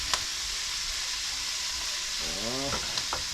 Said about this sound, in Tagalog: At itong kanyang bihod ay ating ipiprito.